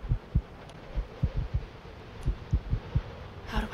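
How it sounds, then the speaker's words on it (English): Slow, heavy heartbeat thumps in the horror game From the Darkness, pulsing in steady pairs, low and close, with a brief burst of other game noise at the end and no talk. "That heartbeat is very accurate to what I am experiencing at the moment."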